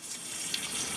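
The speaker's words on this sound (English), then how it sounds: "A bit of drippy water going on to the other Masdevallias is not going to do them any harm." Water drips and trickles through orchid pots after watering with a pump spray, a faint, continuous soft splashing with no voices.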